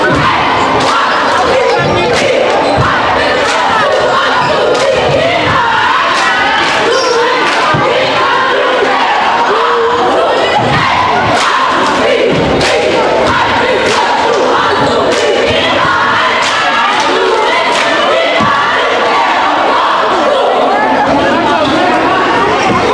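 A loud basketball crowd roars and chatters continuously while cheerleaders chant for the Barton Bears, with thumps of play and voices blended into a dense, steady wall of noise.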